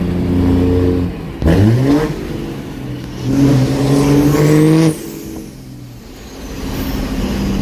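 A 600hp Cummins diesel service truck engine revs hard while downshifting, two loud, close surges of climbing roar with deep rumbling between them, settling back to a steady diesel drone.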